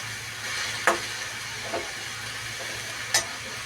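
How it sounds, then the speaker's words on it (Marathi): Steady sizzle of a simple onion, garlic and green chili tempering frying fenugreek-leaf bhaji over a high gas flame, with a few sharp stirring scrapes standing out against the continuous hiss. "तीच फोडणी आहे, सिंपल अशी."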